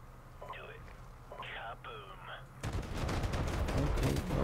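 M249 SAW machine gun fire in Call of Duty Modern Warfare Remastered, a dense, loud burst starting partway through and continuing to the end, preceded by quieter game sounds and a brief voice.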